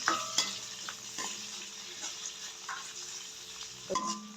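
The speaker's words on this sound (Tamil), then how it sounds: "இதெல்லாம் போட்டு இப்போ வதக்கி விடுவோம்" Sliced onions sautéing in a pan as the base for a Jaffna-style fish curry, a steady soft sizzle broken by a few sharp scrapes and clinks of a stirring spoon, close and alone with no talk.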